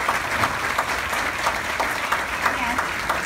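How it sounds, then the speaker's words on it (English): A crowd at the 2017 Laurel House gala applauds for Beth and Jackie: dense, steady clapping from many hands that fills the room, with voices faintly under it. "everybody to please join me in a round of applause to thank Beth and Jackie for their wonderful leadership and support of Laurel House"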